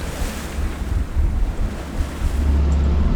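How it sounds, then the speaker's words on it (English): Ocean waves surge and strong wind roars against the microphone during a storm at sea aboard a sailboat, a loud, continuous buffeting wash with no voices. "the ocean waves started washing in"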